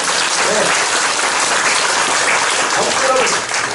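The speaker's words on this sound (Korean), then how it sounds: "박수 박수 할렐루야" A church congregation claps loudly for first-time visitors, a dense, continuous roar of applause filling the room with some voices mixed in.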